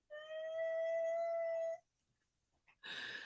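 An uncomfortable dog lets out a long, high, wavering whine, falls quiet, then gives a short yip followed by another burst of whining, close and clear.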